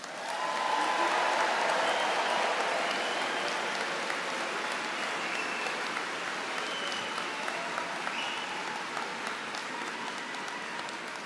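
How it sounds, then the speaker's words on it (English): Sustained audience applause at a business school graduation ceremony, a broad, even wash of many hands clapping from a large crowd in a hall, lasting throughout without pause. "Let's give all the students one more round of applause."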